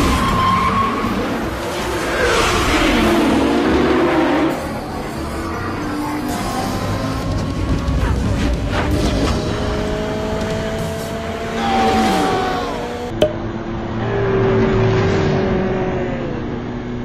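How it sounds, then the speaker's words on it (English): Street drag race cars in a Fast and Furious movie scene, with roaring engines revving and accelerating, tires skidding and squealing, and cars rushing past under a dense, loud film soundtrack mix. "Drag racing bends space and time. They warp down the road."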